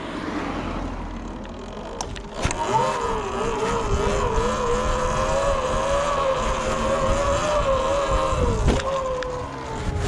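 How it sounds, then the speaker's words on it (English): A Sur-Ron electric dirt bike doing wheelies gives a steady high electric motor whine that rises in pitch as the throttle opens, holds for several seconds, then drops away. A sharp knock comes just before the whine climbs. "So I'll just go ahead and do a couple wheelies here."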